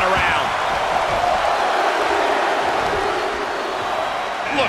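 Video game arena crowd from a WWE 2K23 Royal Rumble wrestling match, a loud, steady roar of cheering and noise that fills the whole stretch without a break.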